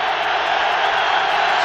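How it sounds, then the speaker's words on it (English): A packed football stadium crowd roars at the 1994 Colorado at Nebraska college game, a dense, steady wall of cheering that stays loud throughout with no break. "Crowd gets into it."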